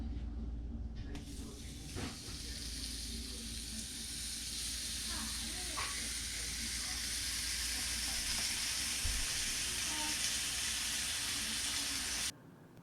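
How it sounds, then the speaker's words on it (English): Slices of home-cured bacon frying in a pan, a steady loud sizzle and hiss throughout with faint crackles, ending abruptly near the close. "We're going to go ahead and fry a couple pieces up"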